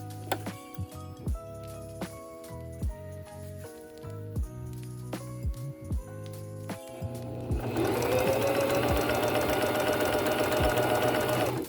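A sewing machine stitches down a sock alteration, starting with slow, uneven individual needle strokes and whirring, then settling into a fast continuous run in the final few seconds, close and clear with no talking.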